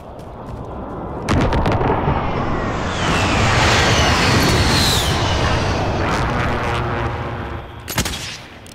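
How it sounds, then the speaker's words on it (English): Airstrike explosions in a military shooter video game, a sharp blast followed by a sustained, loud roaring rumble of bombardment lasting several seconds, with another sharp impact near the end. "Be advised, friendly position airstrike inbound."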